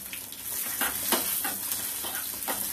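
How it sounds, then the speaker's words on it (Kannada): Hot oil crackles and spits as a tempering for dal palak sizzles, a steady close frying hiss broken by sharper pops, with no voices. "ಇದೀಗ ಒಗ್ಗರಣೆ ಆಯಿತು"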